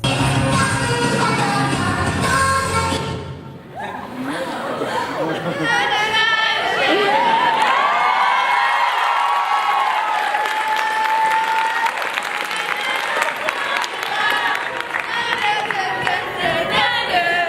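A crowd at a cosplay event breaks into applause and chatter, heard as a played-back recording: clapping and loud talk at first, then a brief dip and a busy roar of cheering, laughter and voices.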